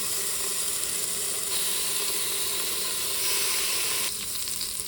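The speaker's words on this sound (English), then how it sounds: "Let's add our bacon." Thin-cut bacon strips sizzle steadily in a pan, a dense, continuous crackling hiss that holds close and even throughout, with a brief shift in texture near the end and no talking.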